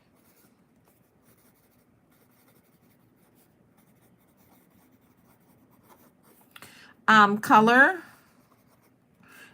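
A pen writes on a handmade coffee-themed craft card, making faint scratchy strokes that run under quiet room tone, followed by a short spoken word.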